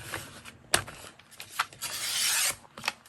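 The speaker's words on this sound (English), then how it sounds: "So I'm just going to trim it off right there on that score line." Paper is trimmed along a score line in a quiet craft space for a handmade journal, with short rasping cuts and one longer scraping stroke.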